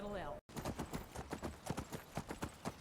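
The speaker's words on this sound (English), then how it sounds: "Go ahead and take that horse." Horse hooves clip-clopping in Skyrim, a steady rhythmic trot of close, even beats that runs throughout, with a brief whinny-like tone at the start.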